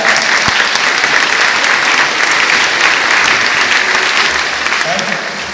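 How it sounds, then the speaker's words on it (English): A school audience gives a big round of applause for the teachers during a visit by an NCC general, dense steady clapping filling the space throughout, loud and continuous without a break. "giving a big round of applause to all your teachers"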